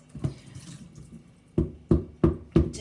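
Hot tap water runs softly at first, then four sharp, evenly spaced knocks or drips follow close by.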